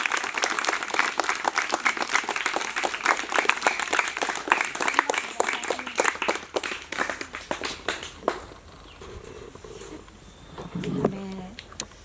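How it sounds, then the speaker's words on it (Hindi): A crowd at a school Teacher's Day celebration applauds with dense, lively clapping that lasts about eight seconds, then fades into quieter room noise and a few voices. "ढेर सारी तालियों से अभिवादन।"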